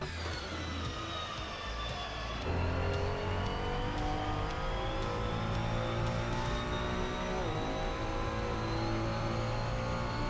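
Ferrari 296 GT3 race car engine at Zolder in Assetto Corsa, a steady loud whine climbing in pitch as it accelerates, with a gear change partway through, alone with no talk.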